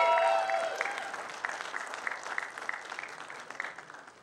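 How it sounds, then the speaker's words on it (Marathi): An audience at a Marathi film teaser launch applauds, a dense burst of clapping that slowly fades over a few seconds. "या सिनेमाचे लेखक नितीन सुपेकर यांच्यासाठी जोरदार टाळ्या झाल्या पाहिजेत."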